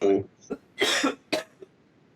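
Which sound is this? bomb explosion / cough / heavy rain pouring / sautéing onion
cough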